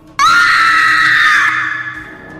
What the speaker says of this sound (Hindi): जल का स्पर्श पाते ही मेघना बुरी तरह चिल्ला उठी